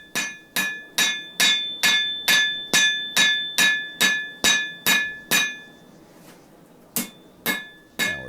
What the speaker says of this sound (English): I just want to hammer it down.